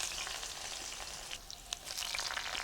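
Ginger, mustard seeds, turmeric and chili powder sizzle in hot oil for an aubergine curry, a steady close hiss with a few faint pops and stirring scrapes and no talk.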